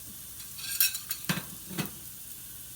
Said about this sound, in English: I am going to allow that to stir fry in that pan